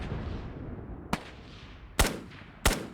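Infantry rifle fire in the GHPC tank video game: three sharp, separate gunshots crack out at uneven intervals over a steady rumbling background, with no talking.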